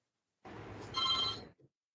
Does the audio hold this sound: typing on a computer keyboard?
no